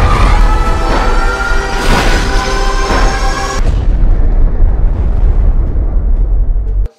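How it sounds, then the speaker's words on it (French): A huge, loud explosion from the film Oppenheimer on 4K Blu-ray, with a rumbling deep bass roar that fills the whole stretch, then tapers into a long low rumble before cutting off. "au moment où vous avez l'explosion, vous avez le grave qui retentit de façon dingue"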